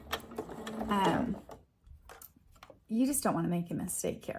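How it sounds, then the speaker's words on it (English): Sewing machine running a basting stitch on t-shirt fabric, its fast mechanical whir buried under a person talking close by, with brief quieter pauses. "make sure that you do a basting stitch"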